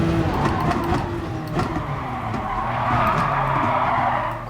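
Race car tires skid and squeal under hard braking in Gran Turismo Sport, a loud continuous screech over steady engine drone throughout, with no talk.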